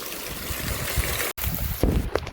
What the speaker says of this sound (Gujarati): અહીંયા નેવડું ચાલુ થઈ ગયું જો